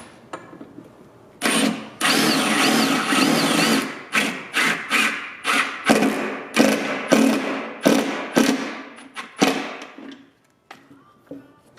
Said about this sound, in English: now we're just going to drill these in